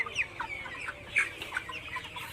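Hens cluck in short, overlapping bursts, with a busy flock on a raised-floor poultry farm murmuring steadily at a middle distance and no talking.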